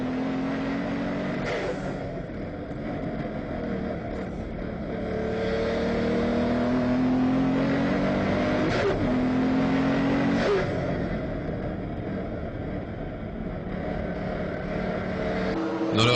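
Race cars, 2009 Roscar RG512s, launch into a one-hour race at the Magny-Cours circuit, with engines revving and accelerating in a continuous droning roar that swells and fades as the pack passes at moderate distance.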